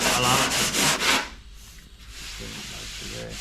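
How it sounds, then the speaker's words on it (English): Rhythmic rasping strokes of sanding on car bodywork of a 60 Series Land Cruiser scrape back and forth, then fade into quieter rubbing with a faint voice in the background. "You do like sanding."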